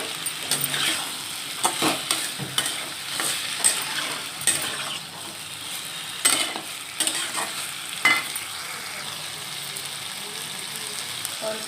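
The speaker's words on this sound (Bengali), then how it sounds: "এখন আমি দিয়ে দিচ্ছি আদা বাটাটা।" Ginger paste frying in a pan for a Bengali dal bata with ash gourd and potato dish, with soft steady sizzle and repeated scraping stirs of a spatula, close and alone.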